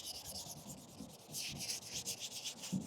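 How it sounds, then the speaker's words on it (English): Wet sanding scuffs a car's clear coat, a soft rhythmic rubbing with quick back-and-forth strokes, faint and close, with no talking. "you just want to scuff up the clear coat"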